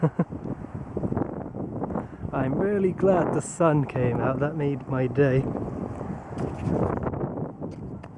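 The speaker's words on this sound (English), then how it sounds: "I think that's why it's so windy here." Gusty valley wind buffets the microphone with a steady low rumble as someone talks through the middle, the blustery noise continuing alone before and after her words.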